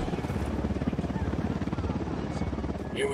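A helicopter's rotor in the video game Ghost Recon Wildlands thumps in a rapid, steady pulse, close and loud, with a dense engine roar beneath and a muffled voice in the background.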